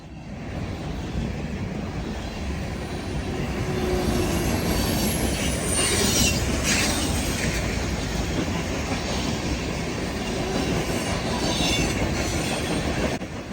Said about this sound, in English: This manifest was so loud that I had to move a healthy distance away from the tracks